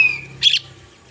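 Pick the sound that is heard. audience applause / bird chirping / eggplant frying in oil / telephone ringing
bird chirping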